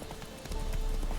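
Hooves of the horse in The Witcher 3 clip-clop in a short, quick rhythm, growing louder midway through the brief moment.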